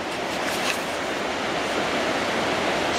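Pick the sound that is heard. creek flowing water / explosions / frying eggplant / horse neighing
creek flowing water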